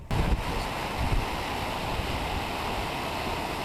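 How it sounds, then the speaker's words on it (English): A steady, dense roar of rushing water from a waterfall in windy Patagonia fills the clip evenly from start to finish, with a few louder bursts near the beginning and no voices. "if you can hear me over the roar of the waterfall"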